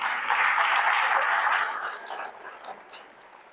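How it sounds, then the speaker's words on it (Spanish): A church congregation claps for the Lord during a sermon on God's judgments, a dense burst of applause that starts full and steadily thins out over a few seconds. "Denle un aplauso al Señor."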